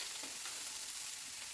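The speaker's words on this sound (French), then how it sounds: "On va laisser suer un peu nos oignons." Onions sweat in a pan with a soft, steady sizzle that fills the whole moment at low volume, with no voices.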